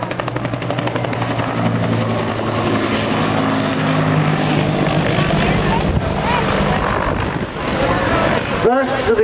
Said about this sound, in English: Versions of the Huey helicopter are still operational with the British Armed Forces.